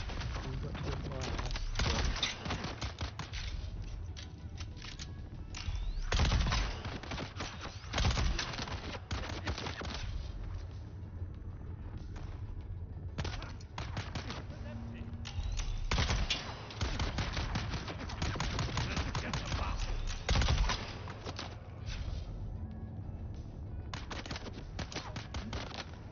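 Rapid gunfire bursts in the video game Dune Awakening, repeated volleys of sharp shots through a steady battle din, with voices speaking over it.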